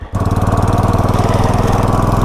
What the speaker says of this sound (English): I do like this more puttery sound that comes from the exhaust falling half off